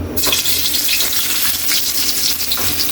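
Sliced ginger goes into hot cooking oil and sizzles, a bright, hissing crackle that starts abruptly and stays steady and close, with no one speaking.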